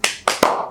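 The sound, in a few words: clapping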